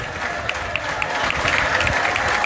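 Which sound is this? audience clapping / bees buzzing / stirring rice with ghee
audience clapping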